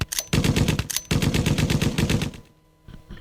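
Rapid bursts of close, loud gunfire crack out in quick succession, a dense volley of roughly a dozen shots over about two and a half seconds before falling away to near silence.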